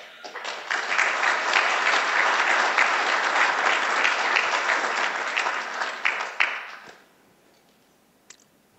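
An audience applauds an arriving guest, Dr. Carl Schramm, at an evening entrepreneurship talk: loud, dense clapping sustained for about seven seconds, then trailing off into near silence with a single faint click.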